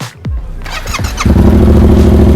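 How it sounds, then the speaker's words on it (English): A motorcycle engine starting: a brief high squeal and starter whir, then the engine catches and settles into a loud, steady, close idle. "You start the engine by moving this down."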